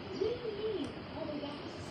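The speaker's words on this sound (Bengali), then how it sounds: "এই যে দেখুন অনেকগুলো কবুতর" Pigeons perched around a house front give soft, low cooing in a couple of faint rising-falling phrases, set against steady background hum at moderate-to-low level.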